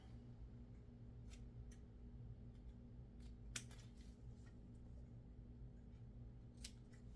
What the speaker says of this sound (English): so I'm gonna go and cut a little on the V